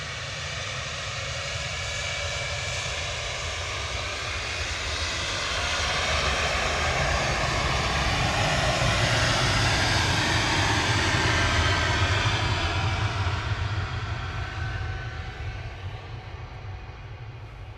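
An Air France Airbus A220 jet bound for Paris Charles de Gaulle at Manchester Airport, its engines a loud, sustained roar that swells toward the middle and then slowly fades, with no talking.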